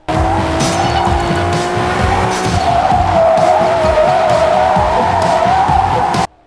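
Racing cars in the video game Blur roar past with drawn-out tire squeals and skids over a constant engine drone, loud and close, ending abruptly.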